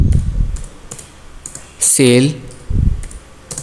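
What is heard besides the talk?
typing on a computer keyboard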